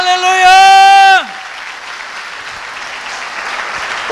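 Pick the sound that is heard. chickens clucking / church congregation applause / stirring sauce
church congregation applause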